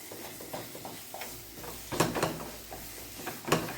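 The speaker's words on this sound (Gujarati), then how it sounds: "અને હવે બધું મિક્સ કરી લઈશું।" Sweet potato shiro with milk and sugar being stirred in a pan, a run of soft scraping strokes with a few louder clanks of the spoon against the pan near the end, close and with no talking.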